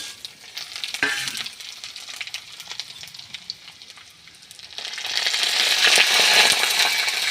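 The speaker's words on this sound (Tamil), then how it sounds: "அடுத்து வந்து வரமிளகாய் கொட்டிக்கலாம்" Dried red chillies hit hot oil in a pan for a drumstick-leaf and egg stir-fry, giving a steady crackling sizzle that swells louder in the second half, with a few stirring scrapes and no voices.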